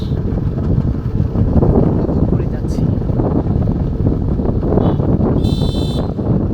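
Wind buffets the microphone in a constant low roar while travelling along a rural road near Alipur Bazar towards Payra port in Mohipur, Patuakhali, and a person speaks over it.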